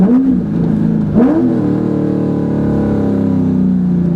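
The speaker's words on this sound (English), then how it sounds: "Is this a NASCAR, Dave?" A loud Corvette Z06 engine revving up and down in sharp bursts, then holding a high, steady roar close by.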